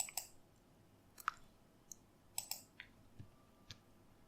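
Short crisp clicks of computer keys, a few scattered presses with pauses between them, close and quiet, used for a Ctrl+H shortcut in the Nemo file manager on Linux Mint.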